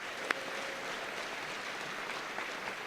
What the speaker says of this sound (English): a big round of applause for Sydney, a student at Fort Hays Arts and Academic School